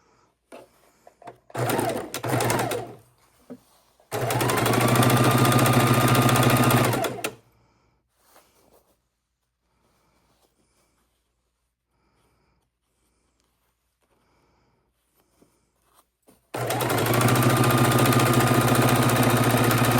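A sewing machine stitches a quilt in two long steady runs of motor hum and needle chatter, loud and close, with short bursts of stitching at the start and a long quiet pause between runs.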